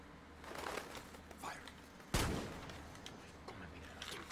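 Gunfire rattles through a firefight in the video game Far Cry 6, scattered shots building to one sharp, loud blast partway through, then lighter shots, with voices talking faintly underneath.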